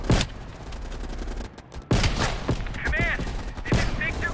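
Rifle shots and bursts of gunfire in a video game battle, with a sniper rifle in use; several sharp loud cracks come at intervals over continuous background fire, with a voice talking through part of it.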